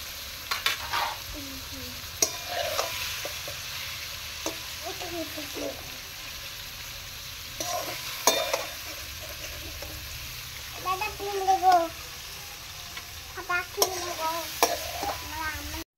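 Paneer cubes lightly fried in oil are stirred and lifted out of the pan, with soft sizzling under intermittent stirring and scraping clatter, close and moderately quiet throughout.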